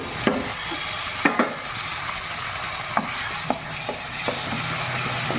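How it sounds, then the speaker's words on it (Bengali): Masoor lentils with cumin powder and spices stirred in a hot pan, a steady sizzle with several sharp scrapes and knocks of the spoon against the pan. "ডাল দিয়ে খুব ভালো করে নাড়াচাড়া করব।"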